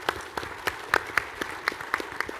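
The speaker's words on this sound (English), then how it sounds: "Can we give them a round of applause, please?" Applause from an audience at a policy summit roundtable, a sparse scattering of claps with irregular rhythm, moderately loud and close, with no talking over it.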